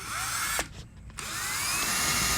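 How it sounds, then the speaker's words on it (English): A power drill whines steadily as it bores a pilot hole through skeleton bone, with the tone dipping briefly as the bit bites, then running on, close and continuous. "Drilling from this bone into the other bone."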